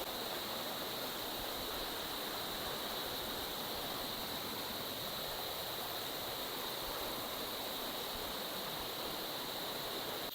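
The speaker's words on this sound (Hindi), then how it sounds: "हाँ तेज बहाव है पानी का" A fast-flowing mountain stream on a trek rushes steadily and loudly nearby, a dense continuous roar of water with no voices above it.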